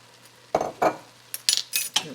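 Utensil scraping and clinking in a pan as soy sauce is stirred into noodles and chicken, a few short bursts of metal-on-pan clatter with a faint hiss, close and alone.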